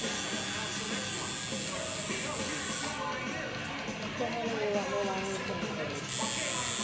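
A tattoo machine buzzes steadily and close by as a tattoo is worked on, with people talking over the continuous electric drone.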